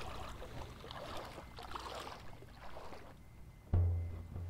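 An Elie Coast 120XE angler kayak paddled across water, with soft splashing and trickling from the paddle blades at a steady, moderate level, then a louder low rumble near the end.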